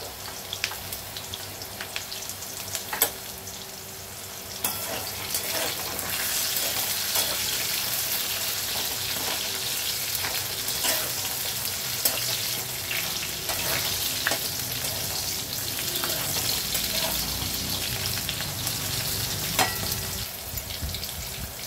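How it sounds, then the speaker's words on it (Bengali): Potatoes with green chillies fry and get stirred in a pan, a steady close sizzle running throughout with brief scraping stirs and faint watery gushes, no talking. "আলুটা একটু নেড়ে নেব।"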